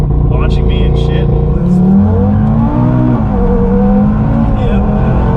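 A turbocharged 2022 Audi TT RS engine roars as it accelerates hard, loud and close, with people talking over the noise.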